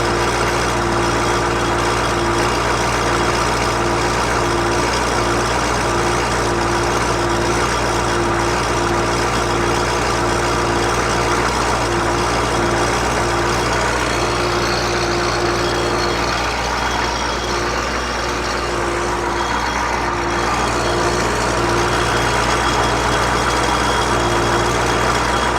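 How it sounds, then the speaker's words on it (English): A CUCV 6.2/6.5 diesel engine idles steadily while warming up, its idle surging, a continuous loud low rumble close by with no talking. "You hear it surging as it's warming up."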